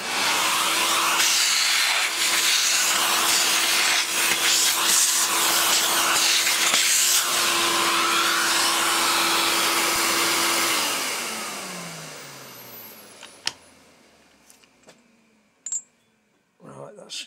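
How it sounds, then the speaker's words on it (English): A Hoover-style vacuum cleaner runs in a workshop during steam locomotive model making, a loud steady roar with a tonal whine that spins down after about eleven seconds, leaving faint clicks and knocks. "Watch your ears, Hoover's coming on."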